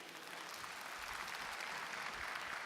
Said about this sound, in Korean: 장병규 위원장님께 여러분 다시 한번 큰 박수